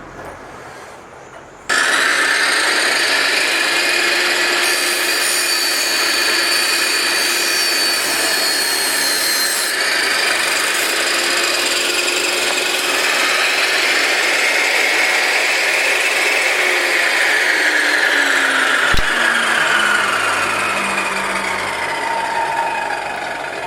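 A Stanley SST1801 table saw with a brand-new blade spins up abruptly and cuts steadily for about twenty seconds, a loud, sustained whining roar that holds level, then winds down slightly near the end with a brief knock.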